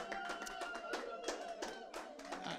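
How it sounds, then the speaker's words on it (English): A small audience at a Christmas bar show claps in a brief round of applause, scattered hand claps rising and falling close by, with voices talking over it. "Come on, give a nice round of applause"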